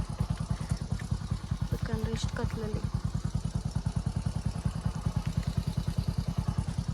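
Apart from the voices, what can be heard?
motorcycle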